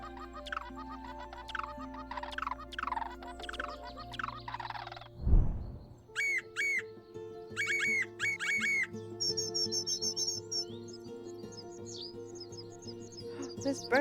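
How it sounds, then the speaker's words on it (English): Bird calls played by clicking cards in the Wingspan video game: quiet repeated chirps and whistled notes, then a brief low thump and a run of rapid trilling tweets, with no talking. "When you click on the card, they make the bird noise."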